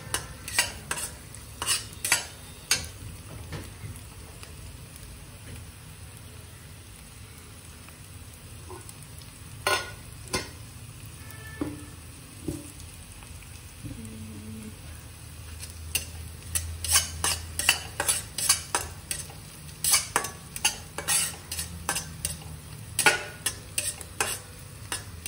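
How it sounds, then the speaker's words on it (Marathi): Onions sautéing in a kadhai for a chicken dish give a steady low sizzle. A metal spatula stirring against the pan adds frequent sharp scrapes and clacks, which grow denser toward the end, with no talking. "कांदा आपला परतत आलेला आहे"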